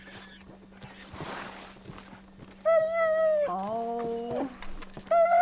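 A dog in Red Dead Redemption whimpers and whines in loud, high, wavering cries over the last half, after a stretch of quieter game ambience, with a brief exclamation from a player's voice.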